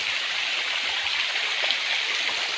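Bua Tong waterfall in forest, a steady broadband rush of flowing water that stays loud and even throughout, with no voices.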